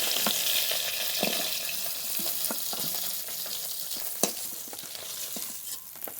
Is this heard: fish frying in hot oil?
yes